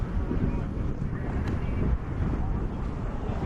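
Strong wind buffets the microphone at an outdoor canoe and kayak sprint race in a continuous low rumble, steady and loud throughout, with a commentator's voice faintly present underneath.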